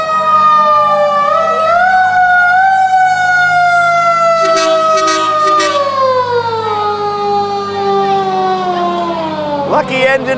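A fire engine siren wails loud and close during a small-town summer parade in Fergus Falls, Minnesota, its rising and falling tone sustained throughout with brief horn blasts, while onlookers talk nearby.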